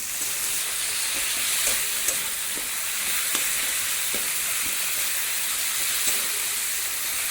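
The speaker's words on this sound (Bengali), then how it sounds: "মশলা আমাদের ভালোভাবে ভাজা হয়ে গেছে" Salt, turmeric and chili powder fry in hot oil with a steady, close sizzle and crackle throughout, broken by a few sharper pops.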